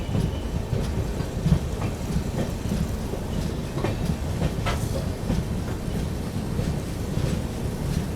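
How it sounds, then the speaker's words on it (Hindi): The Guwahati–Sairang Express rolls along the rails on a hill route, a loud, steady rumble with irregular clicks and clacks from the wheels, close and continuous throughout with no voices. "अब देखो पीछे टनल से अभी अपनी ट्रेन निकली है"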